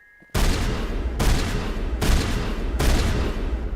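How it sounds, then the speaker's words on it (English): Loud gunfire fills a Mass Effect firefight, with four heavy sustained bursts of rapid shots in a row, close and booming, separated by brief breaks. "The guns are just so overly loud you can't really hear it."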